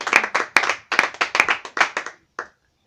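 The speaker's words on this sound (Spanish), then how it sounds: "Denle ese fuerte aplauso al Señor." A church congregation gives a short burst of rhythmic clapping, about ten sharp even claps in unison close by, ending with one stray clap after a brief pause.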